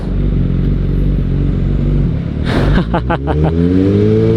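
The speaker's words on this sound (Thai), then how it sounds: "รถเยอะเว้ย" Busy road traffic, cars and motorcycles passing close and loud, a steady engine roar with a motorcycle revving and shifting pitch near the end.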